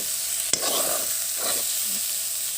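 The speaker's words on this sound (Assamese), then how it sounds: "এনেদৰে ভালদৰে ভাজি ল'ব।" Food with raw green chillies fries in a pan, a steady close sizzle with a sharp clink and soft stirring scrapes partway through, no voices.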